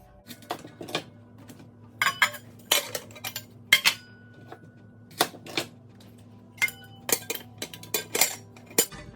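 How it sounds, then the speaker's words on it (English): A knife cuts an apple in half inside a full pot while applesauce is being made, giving a string of sharp, close clicks and clanks of metal against the pot, spaced irregularly, with no talking. "I'll just cut this in half"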